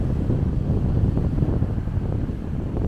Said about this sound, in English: it's very windy, so here's what it sounds like